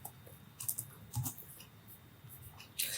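Light keystrokes tapped on a computer keyboard while filling in a resume form, a few soft scattered clicks in short bursts, close and quiet with no talking.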